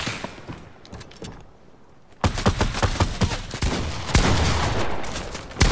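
Gunfire in the video game Fortnite: a few scattered shots, then a quiet gap, then a sustained loud burst of rapid automatic fire with no talk.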